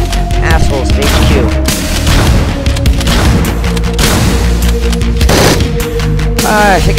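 Rapid, loud gunfire from Hotline Miami 2, dense bursts of shots and booms packed together throughout, with busy game sound layered underneath.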